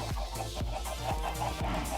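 Chickens cluck in a crowded video game farm with cows and sheep nearby, a steady overlapping flock chatter with repeated short calls at close range and no talking.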